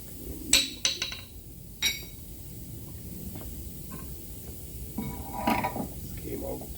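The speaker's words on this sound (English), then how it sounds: "I gotta use a chisel." A chisel taps on a car body part during structural repair of a 2023 Toyota RAV4, giving a few sharp metallic clinks early on and then softer knocks and scraping at a low level.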